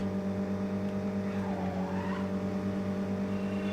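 Video game car engine in Midnight Club 2 drones steadily while drifting, with a rising and falling tire squeal in the middle of a constant, humming motor tone.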